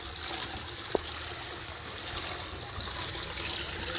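River water running past a flooded house, a steady, moderately loud rushing and trickling wash with no break, with one short sharp knock near the start.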